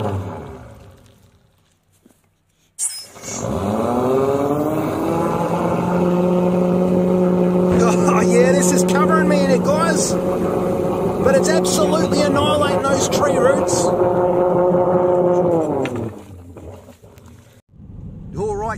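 A motorised drain snake with a cutting head spins up suddenly and runs as a loud, steady, droning motor hum for about twelve seconds, with clattering bursts partway through, then winds down and stops.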